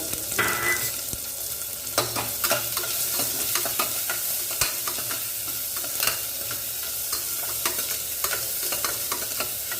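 Shallots and big onions sautéing in a pan for Sri Lankan seeni sambol produce a constant sizzle under frequent close ladle scrapes and taps, with nobody speaking.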